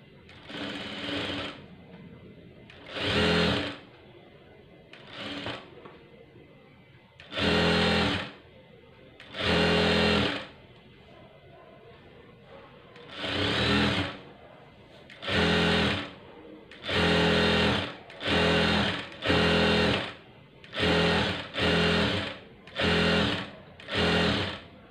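Sewing machine stitching piping for a saree runs in a dozen or so loud, close bursts of rapid whirring, each a second or two long, with a person talking in the pauses between them.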